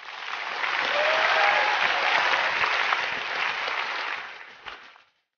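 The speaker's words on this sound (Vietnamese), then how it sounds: "Xin quý vị giúp chúng tôi một tràng pháo tay chào đón người chơi đầu tiên, Mr. Golden đến từ San Francisco." Theatre audience at a comedy stage show welcoming the first contestant with a full, dense wave of applause that swells, holds steady, then tapers off to silence.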